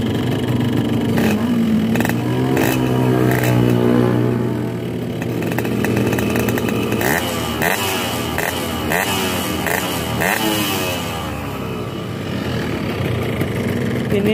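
A two-stroke motorcycle engine, cold and running a low-smoke setup, revved close by: a raspy, buzzing tone that climbs and falls repeatedly over a continuous rough idle.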